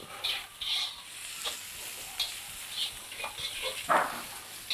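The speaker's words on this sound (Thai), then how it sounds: "เราผัดจนพ่อหอมใหญ่พ่อกระเทียมมันเริ่มออกสีเหลืองเหลือง" Onion and garlic stir-fry in a wok, with a constant close sizzle and the repeated clatter and scrape of a spatula tossing them.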